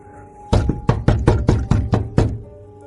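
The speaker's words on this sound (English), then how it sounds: "I tried to knock on the door, but no one answered." Eight firm knocks on a door, loud and close, landing in an uneven rhythm with a short pause partway through before the final rap, followed by quiet.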